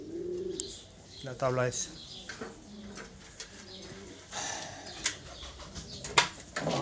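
Pigeons in a loft coo softly and intermittently, with faint chirps and some wing movement, while someone speaks over them at close range.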